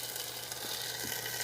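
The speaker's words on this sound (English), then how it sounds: "You hear it sizzle." Boneless turkey breast sizzles steadily as it goes into a Ninja air fryer set to 325 degrees, a continuous close, bright frying hiss with a low hum beneath.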